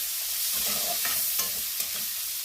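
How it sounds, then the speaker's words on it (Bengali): Prawns are frying in oil with a pinch of turmeric, giving a continuous sizzle broken by soft stirring scrapes and a few small pops. "চিংড়ি মাছগুলোকে একটু ভেজে নিয়ে আমি তুলে রাখবো, বেশি ভাজবো না।"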